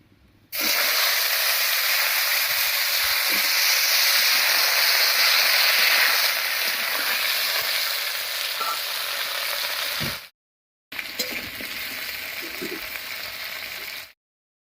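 Cut potatoes hit hot oil already fragrant with whole cumin and bay leaf, letting out a loud, steady sizzle that fades toward the end, followed by a brief pause and a softer, lighter frying hiss with a few stirring sounds.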